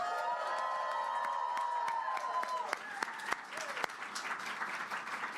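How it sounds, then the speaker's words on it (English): A crowd at DNC Headquarters applauds campaign volunteers, steady clapping with scattered cheers and whoops rising above it, heard at moderate distance. "Can we get a round of applause for our volunteers?"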